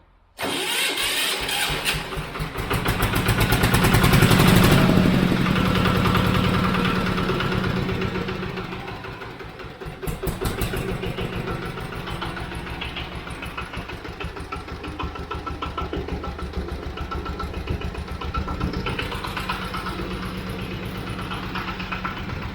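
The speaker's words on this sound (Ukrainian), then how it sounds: "Включаємо запалювання. Заводимо." A Zubr motor tractor engine cranks and fires up, then settles into a loud, steady close-up idle with a fast chugging rhythm, briefly dipping before running on evenly.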